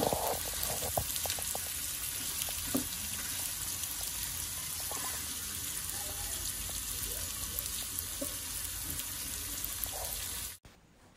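Green chillies sizzle and fry in oil in a pan while beetroot chutney is cooked, a steady close crackling hiss that runs for several seconds with small pops before cutting off abruptly near the end.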